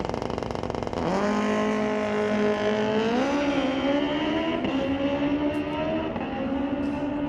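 A street-legal drag racing motorcycle at Mission Raceway Park launches hard on a night run, its engine note climbing steeply through the gears into a sustained high-revving scream, loud and close before easing slightly as it pulls away.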